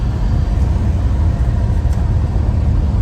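A 1969 Plymouth Road Runner with a 383 V8 and four-speed gets up to speed, giving a steady, loud, low engine rumble with road noise and no talk.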